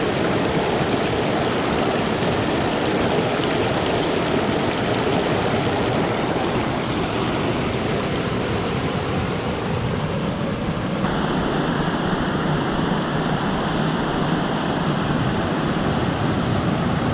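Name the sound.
waterfall just below, rushing water in a valley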